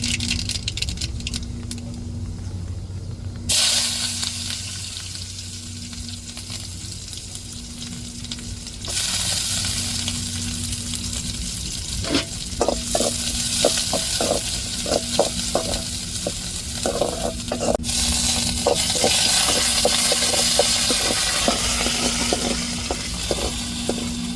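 Onions fry in hot oil while a Tamil sambar tempering is cooked, a constant sizzle and crackle that grows louder and busier partway through, with occasional stirring clinks.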